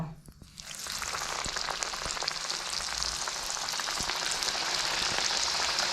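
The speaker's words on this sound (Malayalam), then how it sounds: "ഇനി നമുക്കിതൊന്ന് ഫ്രൈ ചെയ്തെടുക്കാം അപ്പോൾ എണ്ണ നന്നായി ചൂടായി വന്നിട്ടുണ്ട്" Samosas fry in hot oil, producing a dense, crackling sizzle like rain on a surface that swells after the first moment and then holds steady and close.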